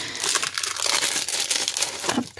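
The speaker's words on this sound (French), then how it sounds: "Alors, je vais quand même l'enlever de son papier." Paper wrapping is peeled and crumpled off a craft stamp, giving a steady, close run of crinkling and rustling that lasts throughout with no voices.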